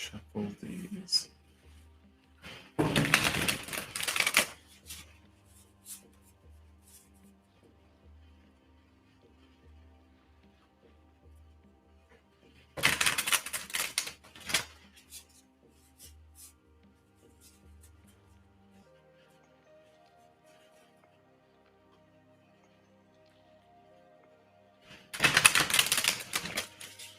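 Cards are shuffled in three separate bursts of crisp riffling, with quiet stretches and some talking between them.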